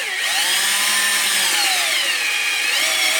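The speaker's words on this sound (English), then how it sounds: "so we'll go ahead and drill." A power drill whines steadily at close range while boring into a Honda Pioneer UTV for a winch install, its high-pitched motor pitch sliding up and down, with no talking.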